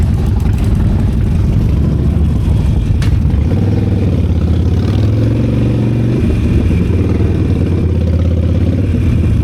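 A Harley-Davidson Sportster Nightster motorcycle engine runs loud and steady at close range, a continuous low rumble with a shifting rev around the middle, ridden on a rainy road up to Puncak Bogor.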